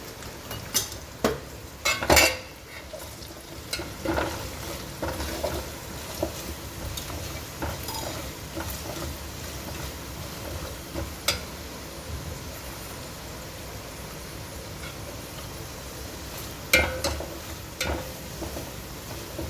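Steady sizzle of tempering spices with asafoetida frying in hot oil for rava idli, with scattered clinks of a spoon against the pan, loudest near the start.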